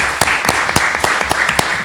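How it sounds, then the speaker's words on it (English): Audience applause after a call to honor a panelist at a university media and democracy forum, a dense steady patter of many hands with sharper individual claps popping out, filling the short moment without speech. "let's give Rex a round of applause"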